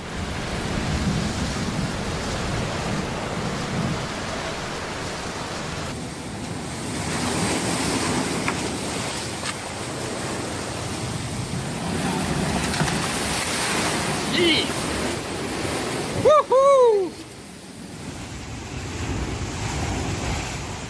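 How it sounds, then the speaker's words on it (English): Gigantic storm swells crash onto a coastal road in Italy, a steady roar of surf and wind buffeting the microphone throughout, with a brief louder burst near the end. "Gigantic swells crash onto the road during a storm in Italy."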